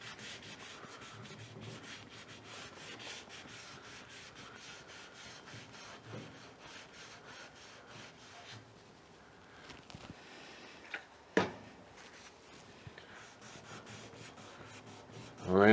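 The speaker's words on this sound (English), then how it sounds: "I'm gonna rub that across here to get any grease off" A cloth is rubbed back and forth across the metal of a Lone Star Grillz grill to strip grease, giving a steady, faint, close scrubbing with a couple of sharper knocks near the end.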